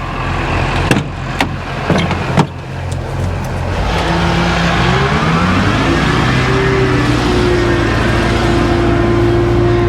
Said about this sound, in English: Get the old Duramax on a dirt road this morning.